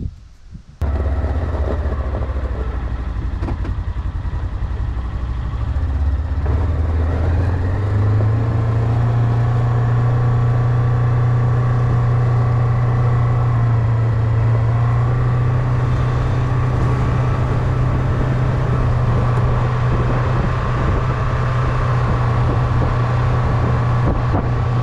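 A Polaris Ranger XP 1000 UTV starts up and drives off, its engine settling into a steady, loud drone with continuous rumble and some wind noise throughout, no talking.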